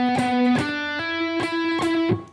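A distorted electric guitar picks a slow, repeated lick from a solo, with several sharp picked attacks and sustained ringing notes, loud and close with no talking.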